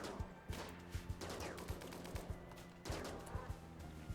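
RimWorld colonists open fire: a rapid series of sharp gunshots at an uneven rhythm, roughly a dozen cracks in four seconds, over a steady low background drone from the game.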